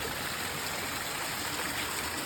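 Water from the Katoomba Falls in the Blue Mountains rushes steadily down a stream, a dense, even hiss with no pauses and no voices.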